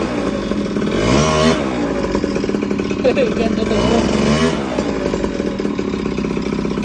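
A Honda Dio scooter with a new straight-pipe exhaust idles and revs with a loud, rattling, raw exhaust close by, while a voice speaks briefly over it.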